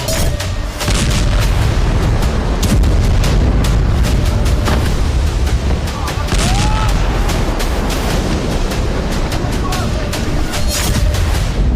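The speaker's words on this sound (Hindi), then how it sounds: "आप अगर ये आवाज सुन रहे हो, फिर यहाँ पर पीछे की तरफ बड़ी दूसरी जगह एयर स्ट्राइक्स की गई हैं।" Heavy, continuous booming and rumbling from Israeli air strikes on southern Beirut at night, with repeated blasts and loud crackling impacts over a dense, sustained roar; voices are faintly present.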